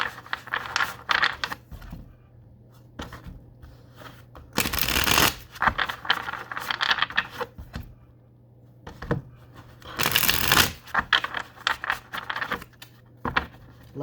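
A deck of cards is shuffled in several quick riffle bursts, close and crisp, with softer card handling and tapping between them.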